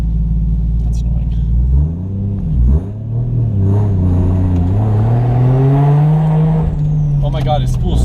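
Toyota JZX100 Chaser with a turbo engine idles roughly, dips, then revs up loud and close, holding a rising note while the turbo spools, with a brief hiss near the end.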